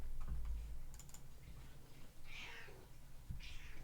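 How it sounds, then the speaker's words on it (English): A cat gives a couple of drawn-out mews, moderately close, over quiet room noise with brief clicks like keyboard typing. "Can you hear the cat when he mews like that?"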